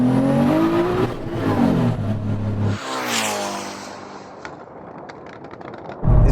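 A Nissan launching hard in a drag race against a Ferrari gives a loud, close engine roar whose pitch climbs through the gears, then fades as the car pulls away.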